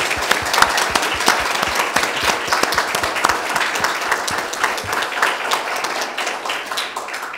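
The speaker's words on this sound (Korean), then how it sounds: "So let us give big round of applause to our Father God in heaven for all the things He's done." A church congregation claps together in steady, dense applause at a Lord's Day service, loud and sustained with many overlapping hand claps throughout.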